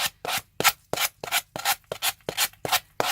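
Sanding block with sandpaper trimming paper on MDF, heard as about ten loud, close, rhythmic rasping strokes with short gaps between them, alone with no voices.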